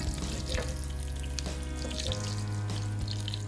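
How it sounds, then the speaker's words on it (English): Cumin seeds sizzle as they go into hot oil for a homemade chicken curry, a steady close crackle with a few sharper pops and a low hum underneath. "So our oil is hot. I'm going to go in with cumin seeds"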